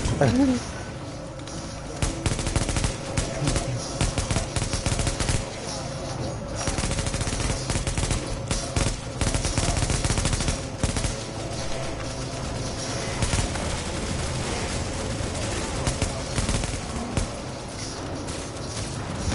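Rapid bursts of gunfire from a shooting video game rattle steadily throughout, dense and continuous, with a voice talking over the action.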